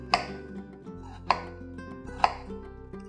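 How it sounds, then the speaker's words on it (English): A knife cuts thin slices of onion with its tip on a cutting board, three sharp, separate chops spaced about a second apart, close and clear, with no talk. "making thin slices using the tip of my knife"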